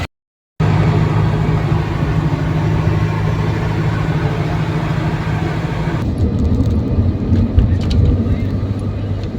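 Car engine droning steadily as the vehicle pulls away on a long road trip, a loud continuous low rumble that shifts slightly in tone partway through.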